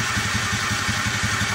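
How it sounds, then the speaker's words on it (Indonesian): A Honda Beat FI scooter engine idles with a steady, rapid putter, close and fairly loud, a low regular pulse with no talk over it. "motor sedang dinyalakan"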